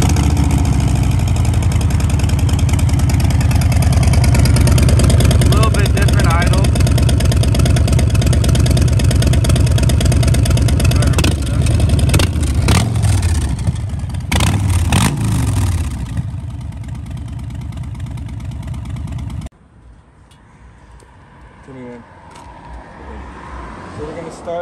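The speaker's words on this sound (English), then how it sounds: "And now we'll start up the 114 and idling too." A tuned Harley-Davidson Breakout with a warmed-up 114 V-twin idles in a steady, loud, low rumble with some revving, then the engine cuts out near the end, leaving faint background sounds.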